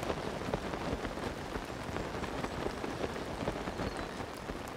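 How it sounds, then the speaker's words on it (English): Steady rain pours in a video game world, a dense, even hiss of drops on the ground with no voices, constant from start to finish. "hopefully it'll stop raining"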